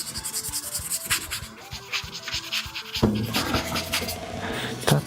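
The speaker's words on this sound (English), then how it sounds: "there was somebody who didn't like the sound of the sanding." Sanding on a puppet part, a rough rubbing scrape that rises and falls in short strokes over a background of music and other sounds, fairly close.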